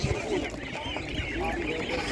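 Honking, quacking calls of meat ducks or geese at a busy animal market, several birds calling in a continuous clamour mixed with crowd murmur and nearby voices.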